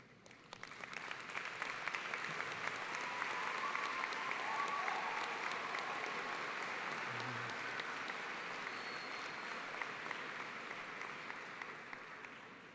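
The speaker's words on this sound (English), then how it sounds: "please stand up and give them a round of applause for supporting you" A large audience at a fall graduate commencement at Texas A&M University-Commerce gives sustained applause, steady and dense, swelling midway and slowly fading over about thirteen seconds.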